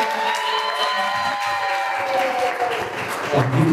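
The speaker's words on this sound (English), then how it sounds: "big round of applause for" Applause from a stand-up comedy competition audience at a championship final, a steady dense wash of clapping with some crowd cheering throughout, close and loud.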